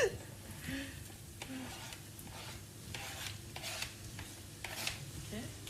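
Onions frying in a pan while being stirred, a soft sizzle under repeated scraping strokes of a utensil, close by, with a voice speaking faintly at times.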